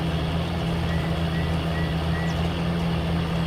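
A tractor engine in Farming Simulator 19 labouring under load while pulling a heavy 600-horsepower implement: a continuous, loud, low droning rumble with a steady hum and no breaks.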